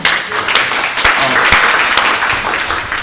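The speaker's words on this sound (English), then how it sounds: "Let's give them a round of applause." A crowd applauds steadily, many hands clapping together in a dense, sustained wash of sound.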